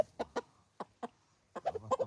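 A rooster clucks in short, separate bursts at a village night ritual, a few sharp clucks followed by a quick run of them, close and fairly quiet.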